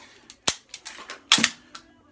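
Sharp metallic clicks of a pistol hammer dropping, several crisp snaps spaced irregularly, with two louder close-up strikes among lighter mechanical ticks.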